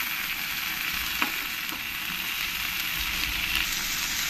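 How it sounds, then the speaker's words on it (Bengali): Onions and tomatoes fry together in a pan for a paneer rajma dish, giving a steady, moderate sizzle with a couple of soft stirring taps, with no talking. "টমেটোগুলো দিয়ে একসঙ্গে আমি একটু ফ্রাই করে নেব"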